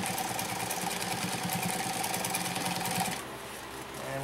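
Consew P1206RB industrial sewing machine running fast while back tacking over a seam, a dense, steady mechanical rattle that drops to a quieter hum near the end, close and loud.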